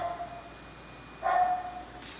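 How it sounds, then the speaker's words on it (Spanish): A pet dog barks indoors in a home, a few short yips and barks that come through faintly over a quiet background. "pero Lula está ladra, que ladra, que ladra"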